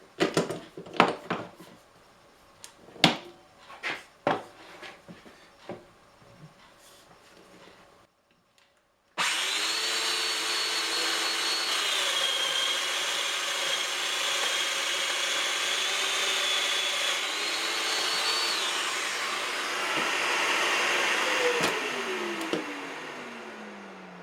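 A power router cuts a groove in a wooden frame-and-panel frame, a steady loud whine starting abruptly and running continuously for about fifteen seconds, after a stretch of scattered knocks and handling noises.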